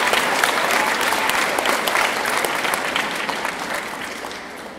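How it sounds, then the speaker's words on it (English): At a middle school awards ceremony, an audience gives a round of applause for the 6th grade team of teachers: loud, dense clapping throughout that slowly tapers off toward the end. "So one round of applause for that 6th grade team of teachers because they did an awesome job"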